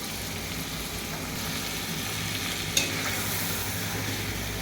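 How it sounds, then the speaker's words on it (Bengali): Boal fish being stirred and sizzling in a pan as it is slowly fried down for a tomato curry, a steady close frying hiss broken by one sharp clink partway through. "এরকম করে উল্টে পাল্টে এখন কষাই নেব আস্তে আস্তে করে।"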